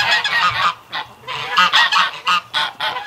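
Canada geese honk in a rapid, noisy chorus of harsh calls close by, overlapping bursts with no talking.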